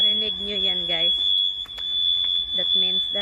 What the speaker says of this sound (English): That means that's the alarm.